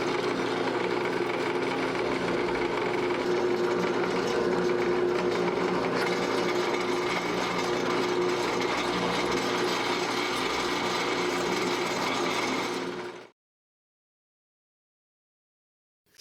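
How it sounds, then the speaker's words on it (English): A power drill bores through pipe sections, its motor whining at a steady, loud pitch for about thirteen seconds before cutting off abruptly into silence. "Drill holes through the larger pipe sections and 30 inches up the poles for the shelf supports"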